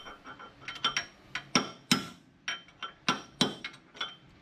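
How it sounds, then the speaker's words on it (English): A round punch taps out the bearing race from a Toyota LandCruiser 80 Series steering knuckle, a run of about twenty sharp metallic hammer strikes at an uneven, quickening rhythm, close and clear. "Now I remove the upper and lower bearing race in the steering knuckle. Simple round punch, moving side to side so it comes out evenly."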